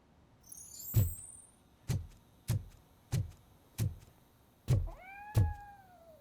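A cat in the video game Robocop: Rogue City meows repeatedly, about seven short, loud, close calls in a steady rhythm, with a brief electronic whine near the start and another near the end.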